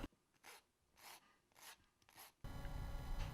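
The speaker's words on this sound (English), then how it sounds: "I will round them lightly using a rasp." Four quiet, rhythmic rasping strokes of a wood rasp rounding the corners of a wooden drill stop, followed by a louder steady rushing noise.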